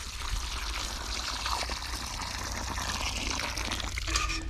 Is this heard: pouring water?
yes